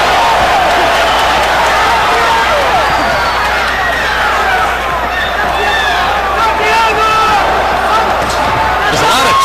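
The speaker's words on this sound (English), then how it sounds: "There's a lot of cheering and excitement in the arena" A large crowd cheers and roars steadily inside a boxing arena at a Floyd Mayweather versus Victoriano Sosa fight, a dense, continuous wall of voices and whistles with no break.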